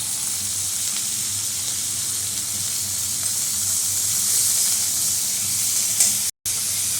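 Potato and chopped onion with salt frying in a pan make a constant close sizzle with light stirring for several seconds, then a brief dropout near the end.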